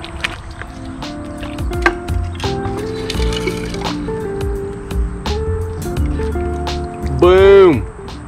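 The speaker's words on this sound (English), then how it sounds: "And now, let's fill it up with water." Water pours into a glass jar ecosphere over substrate, with trickling, splashing and gurgling at close range, ending in a rising bubbly glug, while a person talks throughout.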